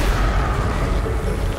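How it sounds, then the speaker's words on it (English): A grenade goes off in the Destiny video game, a loud, broad, rumbling blast that fills the short moment with low-end boom and no talk. "They don't bother trying to run away from a grenade, they just stand there and take the explosion."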